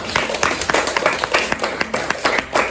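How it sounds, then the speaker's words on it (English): A sixth-grade class gives a round of applause after a noodle-making how-to demo, with brisk, dense clapping from a small group of children nearby. "Give them a round of applause."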